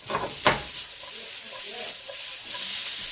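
Sliced peppers and onions sautéing in a pan, a steady close sizzle with a couple of short clinks early on and a soft hiss throughout.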